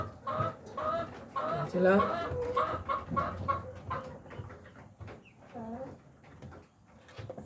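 Rhode Island laying hens clucking in a breeder cage on a farm, a busy overlapping chorus of clucks and squawks throughout, with someone talking over the birds.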